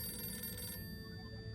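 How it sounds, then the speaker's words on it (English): A red telephone rings in the Harold Halibut video game, a bright electronic trill that stops short partway through, leaving a quiet background hum. "Ooh, the red phone."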